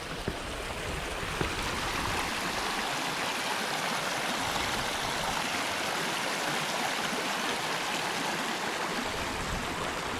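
A river stream in Damanapalli, India rushes steadily downstream, a loud, broad, unbroken wash of flowing water with no voices.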